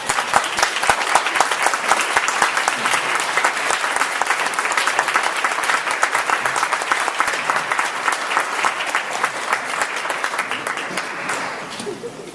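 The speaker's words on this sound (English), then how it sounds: "We have a round of applause." Sustained applause from an audience at a launch event, steady dense clapping that holds at a loud level for most of the stretch before tapering off near the end.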